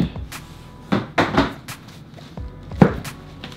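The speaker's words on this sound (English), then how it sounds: "Take off this front lid." A front lid is pulled off a box, giving a few close, sharp knocks and thunks with soft scraping and handling rustle between them.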